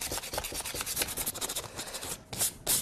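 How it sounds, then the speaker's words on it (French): Wooden corners of a small cabinet being sanded by hand to bring back bare wood, giving a steady run of quick rasping rubbing strokes close up, with a brief pause near the end before the scraping resumes. "Les angles, je vais les poncer un peu plus de manière à faire réapparaître le bois"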